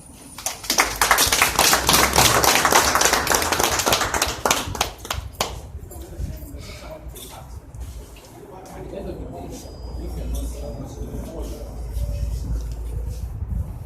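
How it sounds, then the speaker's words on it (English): An audience applauds after a speech: loud, dense clapping swells for several seconds, then fades into sparse claps and crowd noise, with a brief renewed patter near the end. "Clap."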